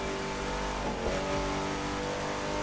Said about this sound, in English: then kick up the nitro to be moving up in lap number 2